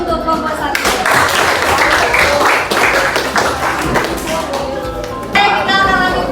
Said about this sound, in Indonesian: Aplaus dulu untuk kelompok 1.